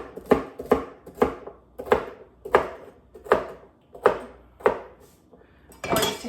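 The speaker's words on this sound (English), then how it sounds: "we're gonna chop it up and it's gonna go in the soup" A knife chops leftovers on a cutting board for soup, with about nine crisp, evenly spaced strikes in a steady rhythm, close and clear, with no talking.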